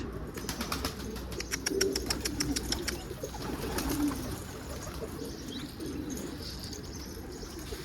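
Pigeons in a Turkish loft coo softly at close range, low murmuring calls over a steady background hiss, with a few faint rustles and light ticking sounds early on.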